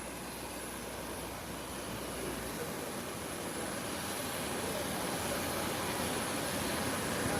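Small aircraft taking off from a runway, a steady broadband engine roar that builds slightly in loudness over several seconds, continuous and fairly near with no talk.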